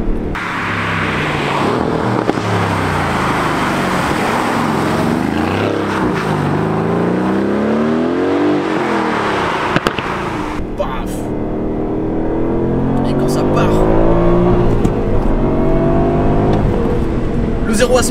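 A manual 2019 Aston Martin Vantage AMR sports car engine pulls hard while driving, revs rising and falling through gear changes, loud and close, with someone talking over it throughout.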